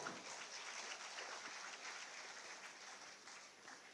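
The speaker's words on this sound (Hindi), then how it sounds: "तालियां आपकी ओर से जोरदार हों" Applause at a ceremony in Ranchi for teachers' appointment letters and merit awards, with a hall full of people clapping in a dense, steady wash that carries on evenly throughout.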